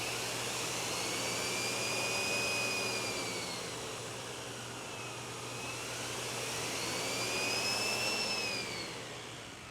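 SEBO Airbelt E2 canister vacuum cleaner running with a steady whine and airflow hum, its high tone slowly rising and falling as suction changes, loud and alone.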